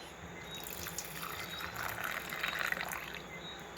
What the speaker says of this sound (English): Now we're going to add fresh water.